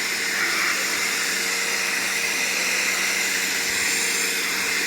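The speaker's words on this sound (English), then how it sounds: "I'm pulling 39 years of nastiness out of them with the steam cleaner" A steam cleaner works over 39-year-old RV cab seats with a loud, constant hissing roar, steady and close from start to finish, with no one talking.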